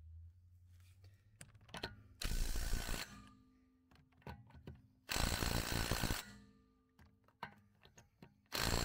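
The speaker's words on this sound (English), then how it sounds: "go around the tires one last time and tighten up all the lug nuts" Hand ratchet snugging car wheel lug nuts in a star pattern on a driveway after a tire rotation, heard as three loud bursts of rapid clicking separated by quieter handling knocks and taps.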